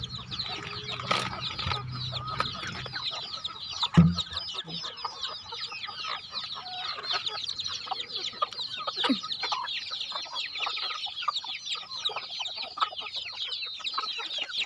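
Chickens on a Thai farm cluck and chatter steadily at close to middle distance, with a brief thump and a low voice early on over a constant busy background of bird calls.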